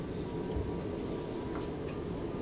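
A train runs in the video game Train Sim World 5, a continuous, steady rumble and clatter of rolling wagons with a faint tonal whine above, unbroken throughout.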